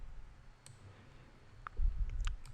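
A few sparse, faint mouse clicks sound close by during dragging in Photoshop, spaced irregularly over a soft low background rumble.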